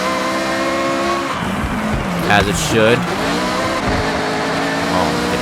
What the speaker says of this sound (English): This Ferrari sounds fucking phenomenal.